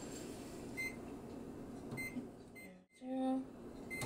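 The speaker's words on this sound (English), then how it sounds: "we will pre-cook them in the microwave for 6 to 7 minutes" A microwave oven on high hums steadily as it cooks frozen vegetables in a covered Pyrex jug, with a few faint beeps and a brief break in the hum near the end.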